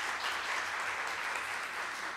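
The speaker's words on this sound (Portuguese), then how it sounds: "Vamos aplaudir, em nome de Jesus" Continuous crowd applause at a church service, steady and fairly loud, with many hands clapping together throughout.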